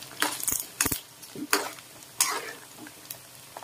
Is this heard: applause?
no